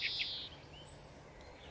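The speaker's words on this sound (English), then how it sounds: "Oh, the blackbird's turned up now to make a noise." A blackbird sings in a garden, a couple of short, bright high chirps followed by a thin whistled note, faint and somewhat distant against a low background hum.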